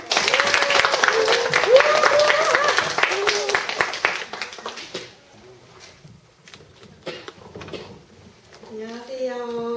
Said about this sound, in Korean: 뜨거운 박수로 격려해주세요